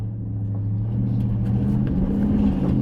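A Dodge Cummins 4x4 pickup's diesel engine bogs hard under load, a loud, continuous low rumble that stays heavy and strained throughout, close by, with no talking.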